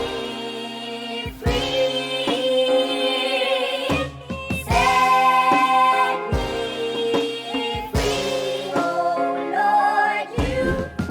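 A soul vocal sample matched to the track's key plays as a looping phrase, a sung voice with rich harmonics and chopped sections changing tone every bar, loud and upfront with no talking over it.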